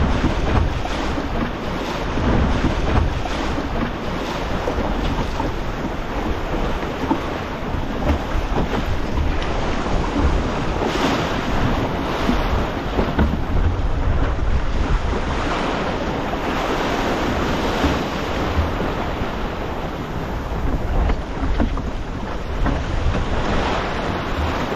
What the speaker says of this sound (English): There's a good 2 metre swell through here. It's not very deep, and the waves are breaking in the top of the swell.